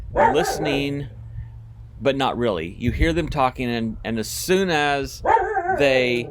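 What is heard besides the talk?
dogs barking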